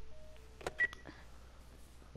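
Faint telephone dialing tones from the video game The Last of Us Part 1 play as a few short, quiet beeps and clicks over low background hum, with no talking.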